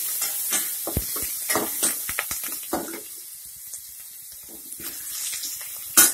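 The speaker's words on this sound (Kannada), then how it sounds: "ಈರುಳ್ಳಿ, ಹಸಿಮೆಣಸಿನಕಾಯಿ, ಕೊತ್ತಂಬರಿ, ಕರಿಬೇವಿನ ಸೊಪ್ಪು ಹಾಕಿದ್ದೀನಿ. ಎಲ್ಲದನ್ನೂ ಒಟ್ಟಿಗೆ ಹಾಕ್ತಾ ಇದ್ದೀನಿ. ಇದು ಸ್ವಲ್ಪ ಫ್ರೈ ಮಾಡಬೇಕು." Onion, green chilli, coriander and curry leaves frying together in a pan for baingan palya, heard as a steady sizzle broken by sharp spatula scrapes and knocks that cluster early, then ease off before a final clatter.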